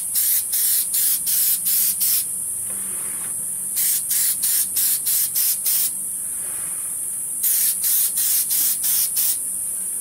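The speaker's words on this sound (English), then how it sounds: "Now I'm spraying this thing, eyeballs and all." Aerosol sealer spraying over a painted tiger face, loud close hissing delivered in quick rhythmic bursts, a row of short pulses, a pause, then more runs of bursts.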